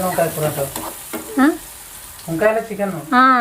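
Onions sizzle in a pan for a brinjal and chicken curry, with a low frying hiss running beneath a voice that talks through most of the moment.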